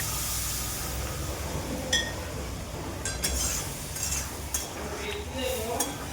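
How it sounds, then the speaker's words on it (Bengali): Water goes into a pan of Bengali-style golda prawn malai curry, a soft sizzling wash under several sharp clinks of a utensil against the pan, close and moderately loud. "জল অ্যাড করে দেবো।"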